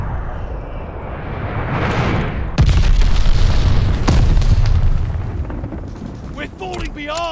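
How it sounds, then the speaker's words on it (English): A glide bomb blasts in a video game, a heavy booming explosion with a long rumbling roll, amid game noise and a voice speaking toward the end. "Enemy glide bomb incoming."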